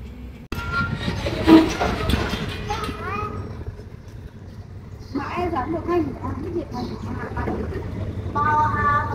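GE4015 diesel locomotive shunting at Bangkok railway station, a low rumbling engine and rolling clatter with a brief horn-like tone, under someone talking close by.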